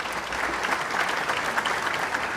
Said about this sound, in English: Please go ahead and give them a round of applause.